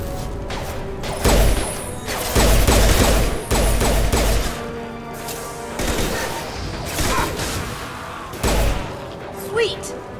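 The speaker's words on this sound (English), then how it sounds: "Firing an impact shot." Impact shots fired in Mass Effect 2 land as a series of heavy, punchy bursts mixed with gunfire and thuds, several loud booms spaced irregularly amid ongoing combat, with someone talking over them.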